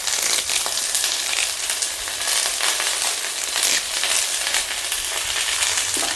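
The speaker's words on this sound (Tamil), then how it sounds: "இப்போது இந்த வெங்காயத்தை நல்லா வணக்கிக்கணும்." Onions, fresh garden curry leaves and peeled garlic frying in hot oil in a pan in a village kitchen, a loud steady sizzle with crackling spatters running throughout, close up and without talk.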